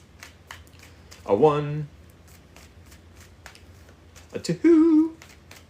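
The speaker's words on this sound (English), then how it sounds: "3 more shuffles" Tarot cards are shuffled in short riffling bursts close to the microphone, with a steady card-handling texture running underneath, while someone speaks briefly between the shuffles.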